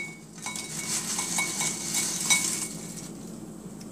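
Cooked tortillas are moved from a pan into a bowl, producing light clinks and scrapes of utensils against cookware, soft and close, with a gentle background hiss.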